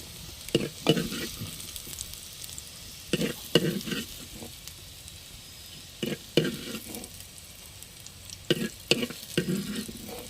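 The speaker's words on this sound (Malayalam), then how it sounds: "പപ്പങ്ങ അര വേഗം ആയിട്ടുണ്ട് അപ്പോൾ നമുക്കിത് മാറ്റാനേ" Half-cooked papaya is stirred and scraped around a pan over a low, steady sizzle, with sharp spoon strokes arriving in short irregular clusters every couple of seconds.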